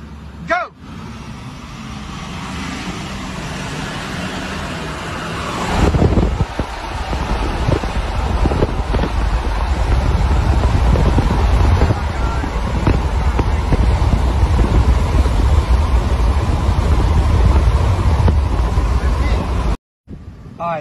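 Diesel engines of two Ford Powerstroke pickups, a 2022 and a 2023 High Output, in four-wheel drive, idle and then roar as they launch in a drag race; the loud, broad rumble continues with heavy wind buffeting, then cuts off abruptly near the end.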